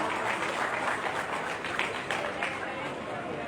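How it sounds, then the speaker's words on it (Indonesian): Applause from an audience at a welcoming event for Anies Baswedan with a Sulawesi Selatan lecturers' and community forum, a dense steady wash of clapping that fills the whole moment at an even level. "Kita berikan tepuk tangan sekali lagi hadirin sekalian."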